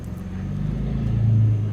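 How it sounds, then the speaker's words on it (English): A car rumbles along the road nearby, its low engine drone growing slightly louder as it goes by. "Noisy car going down the road."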